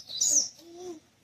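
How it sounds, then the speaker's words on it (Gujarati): Sparrows and mynas give a short, faint chirp followed by a softer lower call, close by and alone. "જો ને ચકલી આવી, જો ચકલી આવી, એ કાબર કાબર આવી"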